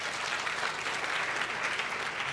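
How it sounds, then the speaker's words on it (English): An audience at an International Anti-Corruption Day event applauds honorable county assembly members, a steady wash of many hands clapping at moderate loudness with no talk over it. "Can you clap for them?"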